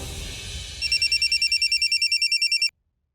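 A telephone bell rings in a rapid electronic trill, loud and close, over low room noise in a domestic drama scene, then cuts off abruptly.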